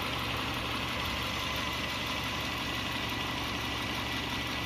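A car engine idles with a steady, even mechanical hum and broadband rumble, constant in level throughout, heard close with no voices.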